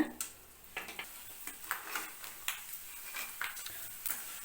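Dried okra vathal fried in oil over a low flame, with a faint, soft sizzle and light, regular ticks of stirring against the pan.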